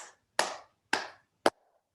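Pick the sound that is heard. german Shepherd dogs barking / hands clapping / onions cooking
hands clapping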